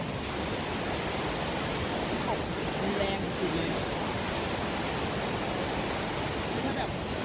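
A powerful waterfall in Laos during the rainy season roars through a canyon. The rushing water makes a loud, steady, unbroken broadband wash for the whole stretch.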